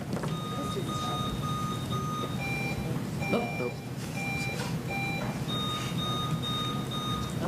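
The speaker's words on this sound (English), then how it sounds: "let's do a buzzer check" Quiz buzzers at a 2018 Chester County academic competition final sound during a buzzer check as a run of short, high electronic beeps in quick succession over room noise, with brief talk in the background.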